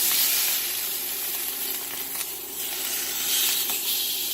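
Food sizzles steadily in a pan on a DuxTop induction cooktop set to level 5, a soft continuous hiss and crackle with no talking.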